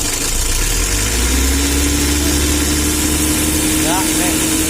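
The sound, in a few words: motorcycle engine running after adjusting engine settings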